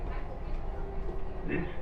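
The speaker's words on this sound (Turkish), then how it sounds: "Dubai'de de trene binmiş olduk, metroya binmiş olduk." Steady rumble of a Dubai Metro train ride, continuous and enclosed, with a faint voice in the carriage.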